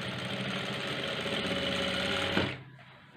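Sewing machine running steadily while stitching the end of a blouse sleeve, a continuous close mechanical whir that stops abruptly near the end, leaving quiet.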